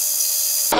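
A metal lathe faces off the end of bar stock being made into a half-inch nut, a steady close scraping cut that stops abruptly near the end into a brief broadband rumble.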